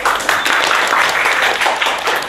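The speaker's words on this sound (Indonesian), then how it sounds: "Tepuk tangan dong." Applause from a class of eighth-grade pupils in an Indonesian school classroom, a dense, steady wash of many hands clapping close by for a couple of seconds.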